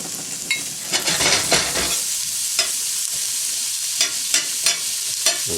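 Meat tipped into a hot pan with garlic, frying with a steady loud sizzle while a utensil scrapes and stirs in repeated strokes, close and alone with no talk.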